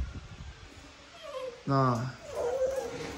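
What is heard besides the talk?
Malinois puppy whimpering during vaccination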